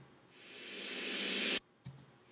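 A reversed snare reverb swells up as a rising, hissing whoosh that cuts off sharply, followed by a brief quieter hit, faint and alone.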